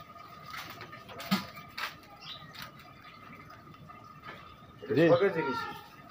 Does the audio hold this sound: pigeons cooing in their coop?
yes